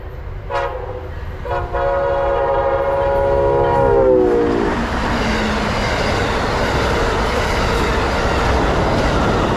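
An Amtrak Silver Star passenger train heading northbound sounds a long, tonal horn as it approaches, then roars past close by with a broad, sustained rumble of wheels and rail noise that fills the rest of the clip.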